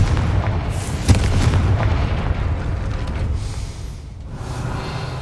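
A Confringo blasting spell bursts in Hogwarts Legacy, one heavy boom that erupts about a second in and then rumbles and crackles loudly before fading, with no talk over it.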